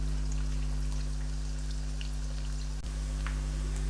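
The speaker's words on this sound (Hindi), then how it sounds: "ये प्याज मेरी डार्क फ्राई हो गई" Onions fry dark over high heat in oil, a soft, steady crackle and fine popping spread evenly over a constant low hum, with a single sharp knock near the end and no talking.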